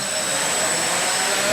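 Parallax Elev8 quadcopter motors respond to elevator control, giving a steady loud whirring, whining drone with a high tonal hum held across the whole moment.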